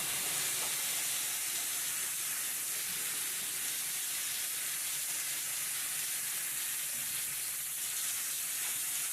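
Continuous, even sizzling of pork steaks frying on a hot Ozark Trail griddle, a dense steady hiss with faint crackles, no talking.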